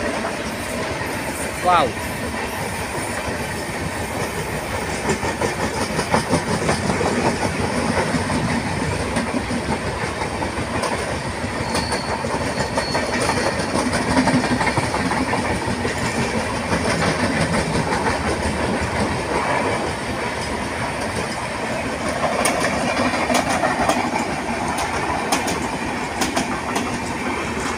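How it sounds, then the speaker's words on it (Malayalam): A train rolling past on railway tracks, steady rumble and rhythmic clickety-clack of wagons heard from nearby for the whole stretch, with people talking and a brief exclamation over it. "ഇപ്പോൾ ട്രെയിൻ പാസ് പോയിട്ടുണ്ട്"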